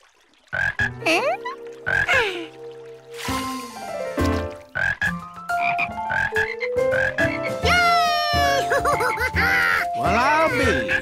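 Croaks from a cartoon frog at a pond in Curious George repeat loudly and up close, a run of bouncy, musical ribbits with pitch swoops, mixed with other cartoon vocal sounds.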